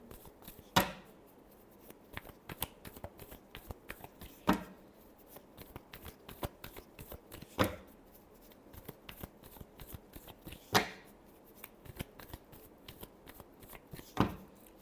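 Tarot cards shuffled by hand at close range: regular sharp riffling bursts every few seconds with quieter flicks and taps between them, no talking.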